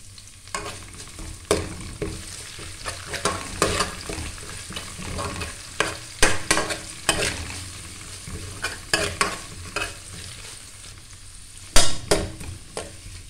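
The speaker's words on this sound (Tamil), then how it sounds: "நல்லா வதங்க விட்டு அதில் கருவேப்பிலை வெங்காயம் போட்டுக்கலாம்." Onions and curry leaves sauté in hot oil for a Tamil-style seer fish (vanjiram) curry, with a steady close sizzle broken by frequent sharp scraping stirs of the spoon against the pan, and no talking.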